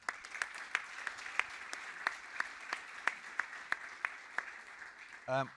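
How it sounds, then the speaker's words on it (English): A faint round of applause from a conference audience, distant and soft, with a few sharper claps standing out at a steady pace, then a brief voice at the end. "Round of applause."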